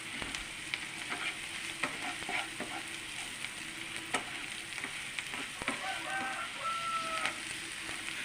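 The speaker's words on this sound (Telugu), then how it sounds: "బాగా వేగాలండి ఇది." Spices and ivy gourd pieces fry in hot oil in a pan, a steady close sizzle with crackling pops and occasional stirring scrapes, no voices over it.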